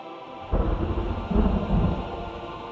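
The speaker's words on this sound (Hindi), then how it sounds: "पूरे गांव में अचानक से बिजली कड़कने लगी" Thunder crashes over a village, a deep rolling rumble that swells in two heavy surges and stays loud and close, with no talking.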